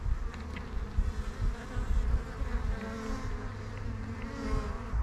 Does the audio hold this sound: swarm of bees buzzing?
yes